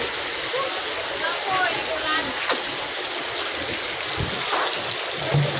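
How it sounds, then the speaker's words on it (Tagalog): Heavy typhoon rain pours down in Butuan, with steady broadband hiss of water striking surfaces and occasional splashes, close and continuous throughout. "Uy, bagyo."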